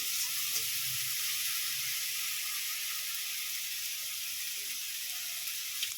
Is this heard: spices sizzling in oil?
yes